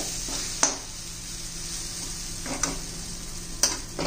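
Dill leaves and gram flour vegetable dish cooking in a pan, giving a steady soft sizzle throughout with a few sharp taps of a utensil against the pan.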